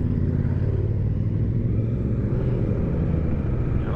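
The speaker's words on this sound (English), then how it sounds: "Loads of bikes out of the front" A group of motorcycles rides together along Isle of Man roads during the TT, giving a steady, loud engine drone with low rumble that holds unbroken throughout, with no voices.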